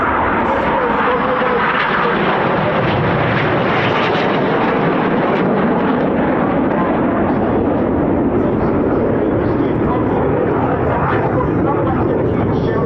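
Red Arrows jets roar past in formation at the RAF Cosford air show, a loud, sustained broadband jet rumble that swells and lingers throughout, with a commentator talking over it.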